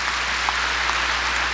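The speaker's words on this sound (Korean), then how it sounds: "박수치며 하나님께 영광을 돌리고" A church congregation applauding during a worship service, a steady wash of many hands clapping at even loudness throughout, with no voices over it.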